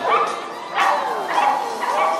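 A dog at a Purina Pro Plan Big Air dock-jumping dog show gives several loud, close, whining yips and barks in a rhythmic series, with crowd noise behind.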